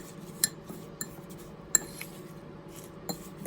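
Instant cinnamon roll oatmeal is mixed into melted butter in a bowl for an apple crisp topping, producing soft scraping with a few sharp utensil clinks against the dish.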